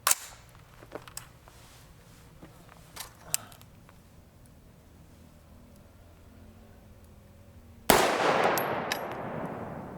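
A 10.5-inch SBR fires one SS195 28 grain round loaded to 223/556 velocities into pine boards, a single sharp loud crack followed by a burst of ringing noise, with faint clicks before it.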